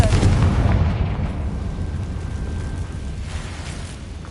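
In Hogwarts Legacy, a Confringo blasting spell bursts with a loud, close explosive boom that trails off into a long rumbling decay and fades to a low wash.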